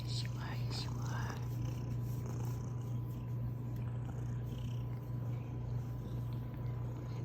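A pet cat purrs steadily and close up in a low, continuous rumble, while a person speaks softly over it at the start.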